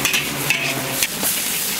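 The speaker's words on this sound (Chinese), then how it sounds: "炒一下排骨，炒香一点。" Ribs stir-fried in a wok over a high flame with chopped chili, producing a loud continuous sizzle with brief scraping stirs, close up and without speech.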